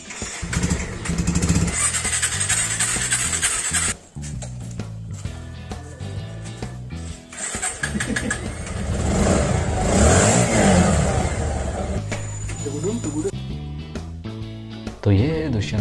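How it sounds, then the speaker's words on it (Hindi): A parked motorbike left standing during lockdown is started and revved, the engine cutting out and catching again with rising revs, close and loud, as people talk over it. "तो ये भी देखना है कि गाड़ी शुरू भी है या नहीं।"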